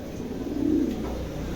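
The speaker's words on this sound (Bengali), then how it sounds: "চমৎকার এক জোড়া কবুতর, ভালো লাগলে অবশ্যই সংগ্রহ করতে পারেন।" A pair of pigeons coo softly with a low, rounded call that swells briefly in the middle, heard close up against faint background noise.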